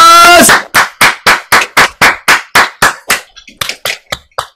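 A crowd at a Japanese ceremonial send-off rally gives a round of applause, heard as about a dozen sharp, evenly spaced bursts of clapping after a brief voice, loud and close.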